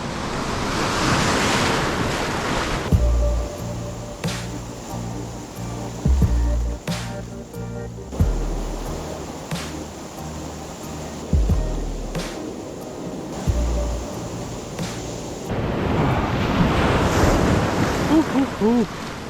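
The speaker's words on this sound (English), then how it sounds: "There's waves breaking right there on that point" Ocean waves break and wash against a rocky point at a surfcasting spot, loud and close, with steady rushing surf and heavy wind buffeting the microphone throughout.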